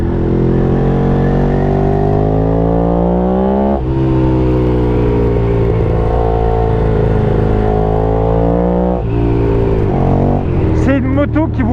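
A Ducati Streetfighter 1098 S motorcycle, rated at 160 hp, accelerating hard under a rider, its engine loud and close with rising pitch sweeps through the gears, wind roar behind it and a brief vocal exclamation near the end.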